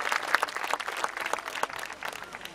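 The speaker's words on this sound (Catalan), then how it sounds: "Un fort aplaudiment per ells" A crowd claps steadily at moderate volume at an outdoor havaneres concert in Altafulla, a brief round of applause with no talking.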